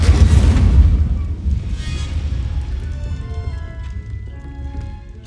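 Incendio fire spell cast in Hogwarts Legacy, a loud booming fiery burst at the start that rumbles and fades into a crackling, decaying roar.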